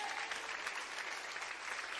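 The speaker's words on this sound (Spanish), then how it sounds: "Dale un buen aplauso al Señor." Congregation in a church applauding, a steady wash of many hands clapping at moderate distance, even and sustained throughout without a break.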